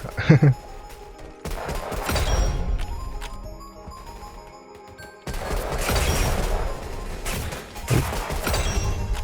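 Rapid bursts of gunfire in the Roblox game Weird Gun Game come in two clusters of quick shots with a quieter gap between them, mixed with game sound effects.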